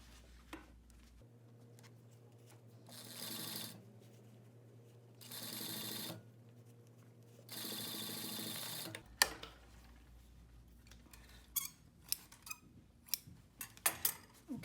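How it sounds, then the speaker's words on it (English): A sewing machine stitches a pocket for a tailored chest pocket, three short whirring bursts separated by pauses, then scattered clicks and taps from handling fabric. "I will take this and sew this to the pocket"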